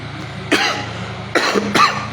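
Three short, harsh coughs from one person, the first alone and the last two close together, loud and near over a low steady hum.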